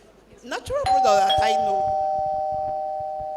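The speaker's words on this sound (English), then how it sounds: "so that's the doorbell" A doorbell rings once with a two-tone chime whose second note holds and slowly fades, heard clearly over a person speaking in a panel discussion.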